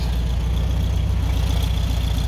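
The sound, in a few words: car engine idling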